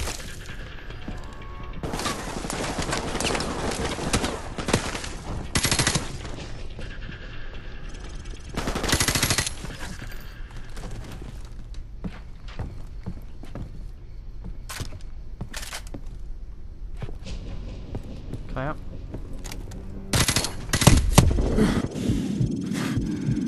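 Gunfire in the video game Modern Warfare Remastered during a night mission, loud bursts of automatic fire and single sharp shots in uneven clusters across the stretch.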